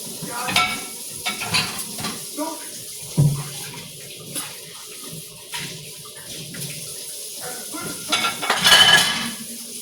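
Rinsed dishes go into a home dishwasher: scattered clinks, knocks and rattles of dishware at moderate volume, with brief talk in between.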